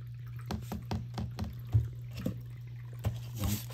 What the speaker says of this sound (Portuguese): Caiu a mais, vou colocar na água.